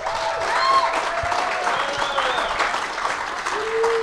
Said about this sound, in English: I just want to give one more round of applause to my guest here.